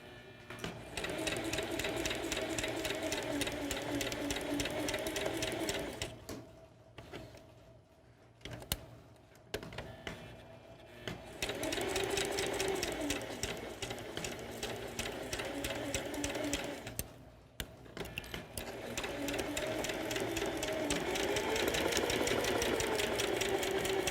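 A sewing machine runs steadily while stitching a fabric change purse made from scrap cloth, a fast mechanical hum and ticking in long runs broken by brief pauses, close and fairly quiet, with no talking.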